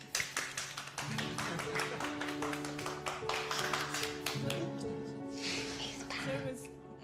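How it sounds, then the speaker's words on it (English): An audience at a Rice University ECE Corporate Affiliates Day talk breaks into a round of applause, dense rapid clapping that swells and fades over several seconds with voices talking through it. "That deserves a round of applause."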